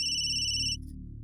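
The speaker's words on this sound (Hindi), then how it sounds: "लो, श्लोक का ही फोन है।" An incoming call rings on a phone in a Hindi TV drama scene: one clear, steady electronic tone holds for under a second, then stops over quiet background hum.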